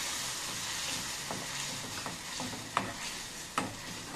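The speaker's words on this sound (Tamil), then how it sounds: "இந்த அரைச்சி வச்ச வெங்காயம் இஞ்சி பூண்டு விடுதலை வந்து இதில் சேர்க்க போகிறோம்." Ground onion, ginger and garlic paste sizzles and hisses in a hot pan for chana masala, with scattered stirring scrapes and two sharper clanks; steady, close, no speech.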